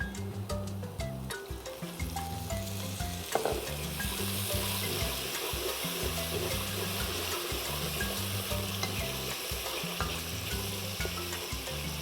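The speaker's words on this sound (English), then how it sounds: "We'll let the curry cook a little bit before we add our bodi and the rest of our ingredients." Curry and water sizzle and bubble in a pot, with a steady frying hiss and spoon scrapes and stirring knocks over a repeating background music loop. No one speaks.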